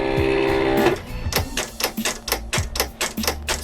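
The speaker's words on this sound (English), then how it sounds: "So now the Cameo is adjusting for the cutting mat and the heat transfer vinyl on top." Silhouette Cameo cutting machine preparing to cut heat transfer vinyl on a cutting mat, a steady motor whine followed by a rapid series of sharp mechanical clicks and clatters, close and loud, with no talking.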